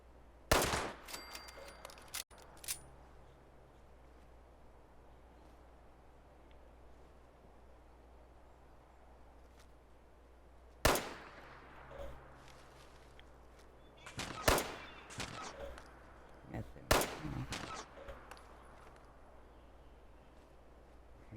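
Gunfire rings out in the video game Fallout 76 in a few scattered bursts of sharp shots, with long quiet stretches between them and a faint background hum.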